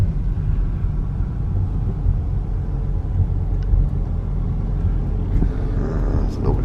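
Cars keep pulling in around the pumps at a gas station, a steady low engine and tyre rumble close by, with faint higher clinks near the end.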